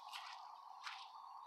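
Liquid dripping inside a duplex: two soft, wet drip or squish sounds about a second apart, faint and close, with no talk over them.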